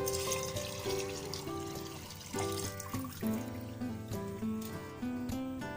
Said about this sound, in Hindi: हम पानी इतना डालेंगे